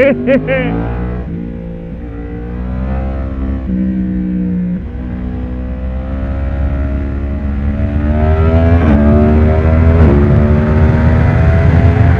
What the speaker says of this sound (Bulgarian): Да бех сложил диктофона да слушаме пак мотора.